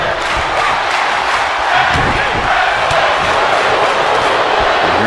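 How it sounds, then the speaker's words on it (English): Crowd at a tag team wrestling event, a loud, dense roar of many voices with rhythmic chant pulses and occasional thuds running throughout. "You hear the crowd chanting tag team wrestling."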